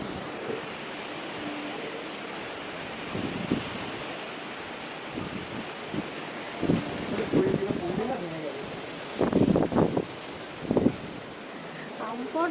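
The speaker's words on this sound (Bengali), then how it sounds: "এত হাওয়া দিচ্ছে, আম পড়ছে।" A strong wind blows steadily near mango trees with a rushing, surf-like roar, broken by a few dull knocks and bumps, while a person talks now and then.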